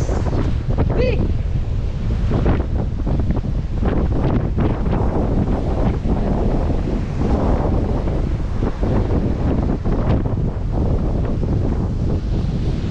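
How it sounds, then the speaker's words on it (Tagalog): Big ocean waves crash and churn under strong storm wind at the shore, a loud, continuous roar with gusts buffeting the microphone throughout. "Malaki pa ang alon."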